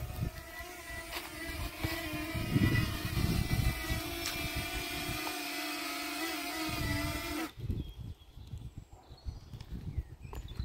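A small DJI Flip drone whines steadily with layered buzzing rotor tones outdoors in Luxembourg, fairly close, then cuts off abruptly as it lands on a hand, leaving quiet background noise.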